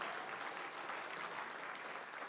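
Soft, far-off applause from guests at a Habitat for Humanity fundraising gala ball in Los Angeles, a continuous even wash of clapping from a large room.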